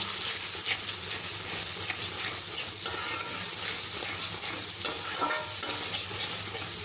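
Spice paste stir-fried with country chicken in a pan, giving a continuous dense sizzle with steady stirring scrapes and occasional louder sputters, close and with no talk.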